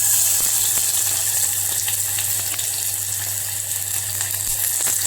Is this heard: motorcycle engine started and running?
no